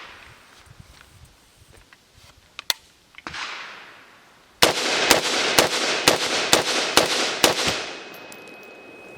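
Rifle shots from an MKE AP53 roller-delayed 5.56 rifle fired outdoors: a few scattered shots, then a rapid string of about eight sharp, loud reports in quick succession, each with a short echoing tail.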